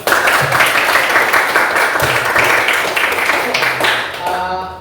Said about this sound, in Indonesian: So mari kita berikan tepuk tangan untuk kita semua dulu.